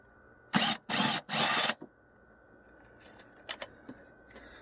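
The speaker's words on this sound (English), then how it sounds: "I'm just gonna use a swivel socket here" Swivel socket on a ratchet loosening nuts under the hood of a Nissan Frontier during a heater outlet hose job: three loud, separate bursts of rasping clicks close up, then a few faint, scattered metallic clicks.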